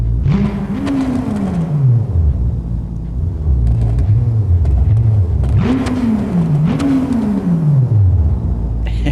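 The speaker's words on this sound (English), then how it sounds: "It revs all the way up immediately." A tuned car engine in a racing video game revs loudly three times, each rev rising sharply and falling away over a deep idling rumble.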